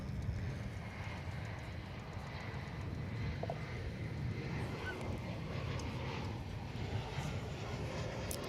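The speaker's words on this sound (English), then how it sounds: "American Airlines Flight 21 coming in from Heathrow" An American Airlines Boeing 777-300ER arriving at Dallas/Fort Worth from Heathrow: a broad, steady jet roar, distant and moderately faint, holding level throughout.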